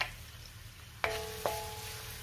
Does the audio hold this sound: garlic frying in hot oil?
yes